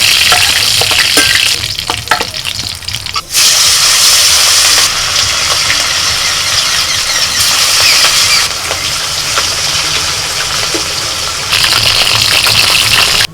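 Steady, loud sizzling of silver carp frying in hot oil, a continuous crackle with bursts of spattering that rise and fall over several seconds.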